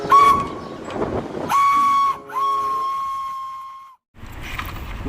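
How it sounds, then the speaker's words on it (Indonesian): A toy Thomas the train engine sounds two long, steady whistle tones with clattering rail noise under them, close and loud, the second whistle held for nearly two seconds before cutting off abruptly. "ini kereta api Thomas lagi teman-teman"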